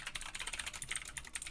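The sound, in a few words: typing on a computer keyboard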